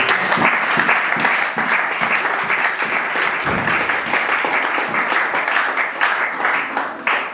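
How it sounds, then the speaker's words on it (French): A church congregation applauds steadily and fairly loudly, with dense, sustained clapping that continues throughout without a break. "Est-ce qu'on peut acclamer pour la gloire de Dieu?"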